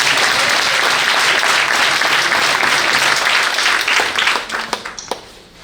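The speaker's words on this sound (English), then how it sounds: "Give a loud clap." A church congregation breaks into loud, sustained applause, dense clapping at full strength for about four seconds before tapering off into a few scattered claps.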